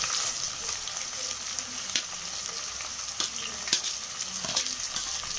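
Chopped onions go into hot oil with fried spices for chicken biryani in a pressure cooker, giving a steady loud sizzle and crackle with scattered pops and light stirring scrapes, no talking.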